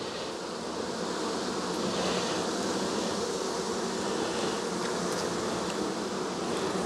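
Honey bees hum at a late-season hive box from a colony short on strength, a soft, steady buzzing drone with no voices.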